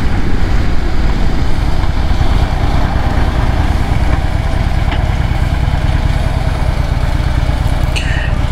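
Motorcycle engine running steadily throughout while the bike is ridden on a road, with a loud, continuous low rumble and drone mixed with wind noise and vibration.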